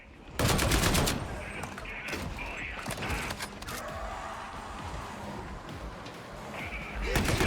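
Gunfire in the Warhammer 40,000: Darktide video game, a rapid burst of sharp shots at the start followed by scattered bangs, impacts and mechanical clatter against a busy battle din.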